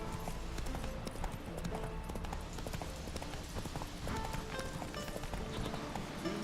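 Hooves drum in a fast, continuous gallop as Roach the horse runs in The Witcher 3. The clip-clop stays close and even throughout, over a light in-game ambient bed.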